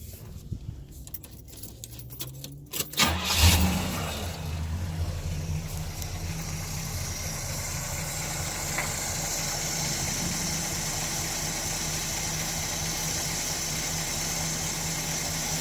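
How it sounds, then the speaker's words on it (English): Keys rattle, then a 400 V8 in a 1974 Pontiac Grand Am sedan cranks and catches with a loud burst before settling into a steady, deep idle that continues to the end. "Sounds like a nice, healthy engine."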